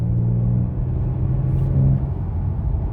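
A 2022 Genesis G70 engine pulls under acceleration, a loud close low rumble with a rising tonal drone that holds steady and swells briefly near the end, heard alone without talk.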